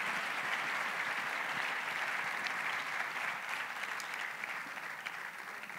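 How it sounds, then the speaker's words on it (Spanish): Sustained audience applause at a charity awards ceremony in Murcia, a dense, steady patter of many hands that eases slightly toward the end, heard alone without talk. "Un aplauso para animar la bajada"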